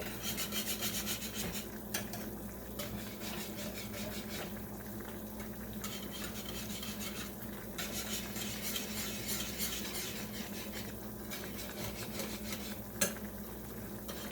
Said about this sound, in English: Just use your whisk in between the pork chops to make sure it don't stick